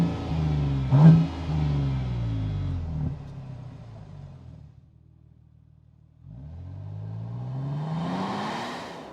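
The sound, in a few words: 2026 Nissan Armada NISMO tuned exhaust revving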